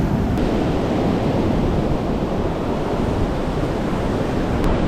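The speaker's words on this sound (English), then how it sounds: "The tide is getting really high and the waves are like pretty big right now." Large ocean waves surge and break continuously on a beach at high tide during surf fishing, a loud, steady wash of surf with wind buffeting the microphone throughout.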